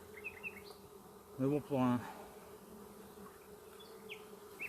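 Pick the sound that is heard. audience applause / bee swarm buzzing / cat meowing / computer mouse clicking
bee swarm buzzing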